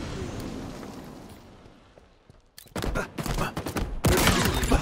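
Rapid gunfire in the Halo video game, dense bursts of sharp cracking shots that start abruptly after a quieter stretch and grow louder toward the end, with no talking.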